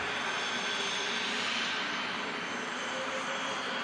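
A Ryanair Boeing 737 Max touches down at Manchester in thick fog, a loud, steady broadband jet roar with a faint whine, continuous and without voices.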